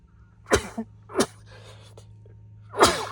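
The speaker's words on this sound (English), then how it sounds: "Oh, sneezes, sorry." Three sharp sneezes burst out close by inside a 2001 Bayliner Ciera houseboat, spaced unevenly over a few seconds, with a low steady hum running underneath.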